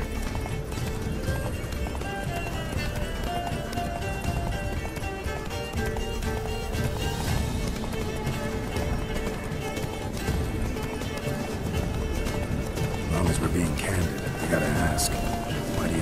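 Geralt's horse Roach gallops in The Witcher 3, steady clip-clop hoofbeats running continuously beneath game music and spoken dialogue.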